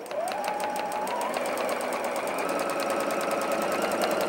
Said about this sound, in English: I can set my presser foot back down and I can continue to sew